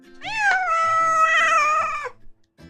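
A cat gives one long drawn-out meow lasting about two seconds, loud and close, with a brief faint sound after it and no talking.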